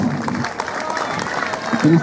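Spectators clap for a runner at the Arvika triathlon, a scattered burst of applause outdoors mixed with an announcer talking over it.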